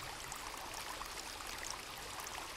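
Flowing water from a stream in a video game: a soft, continuous rushing trickle, faint and steady with no pauses.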